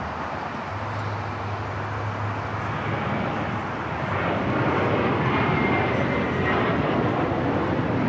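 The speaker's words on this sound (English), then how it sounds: "Emirates Flight 215 coming up from Dubai." An Emirates jet on short final for runway 24 right at LAX, arriving from Dubai, gives a steady engine rumble and whine that grows louder toward the end as it nears, with no talk.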